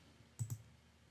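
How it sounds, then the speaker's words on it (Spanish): Two quick, crisp computer mouse clicks land close together near the middle of an otherwise quiet moment, close and distinct. "Vamos a hacer clic."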